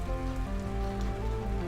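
Steady rain falling in the video game Necrobarista, a constant hiss of drops on surfaces under sustained tonal music, even and unbroken throughout.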